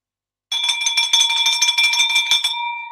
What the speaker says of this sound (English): Ring the bell for me